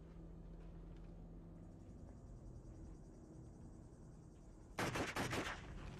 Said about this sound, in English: goddamn, we got shots fired